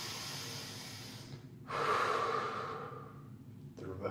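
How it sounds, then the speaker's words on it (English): A single deep breath drawn in and let out during a seated chair-pose hold in a leg strength workout, close and fairly quiet against a faint steady background. "Big breath in."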